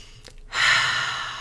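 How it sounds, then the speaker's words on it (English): A person takes one audible breath in, a soft, airy inhale that swells after a brief pause and then slowly trails off, close and alone. "take a breath."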